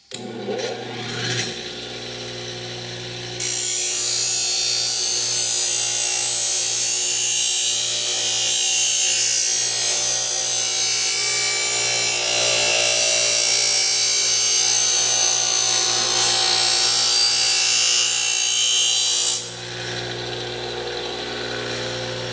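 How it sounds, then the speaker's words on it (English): A Scotch-Brite pad rubs back and forth over an aluminum aircraft part, making a continuous close abrasive hiss and scrubbing that runs for most of the stretch, then drops back to quieter background near the end. "let's try a little Scotch-Brite and see what the result is. I'll do one of the sides."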